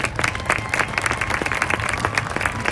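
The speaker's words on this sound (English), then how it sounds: "How about a round of applause for the Esmont family and friends?" Applause from a race track crowd near the front stretch flag stand at a street stock feature at South Bend, dense steady clapping lasting throughout at moderate distance, with no voices rising above it.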